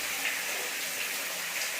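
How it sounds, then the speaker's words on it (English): Shower water spraying straight against a bathroom wall, a steady, close hiss of splashing water with no pauses. "so the water is just going to the wall direct"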